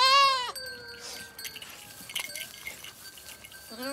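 Goats bleat on a Himalayan farm in Uttarakhand: a loud, wavering cry up close, then quieter clinks and scattered rustling, and another bleat rising at the end.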